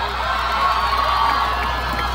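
A crowd in an audience cheers and shouts in a dense, sustained roar of many voices, loud and continuous for about two seconds; individual claps are not clearly separable.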